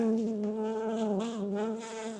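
Honey bees droning steadily at an open hive during a Texas honey harvest, a close, continuous buzz with a wavering pitch and no voices over it.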